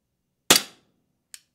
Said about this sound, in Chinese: 现在射击了15发，没关系，我们继续来。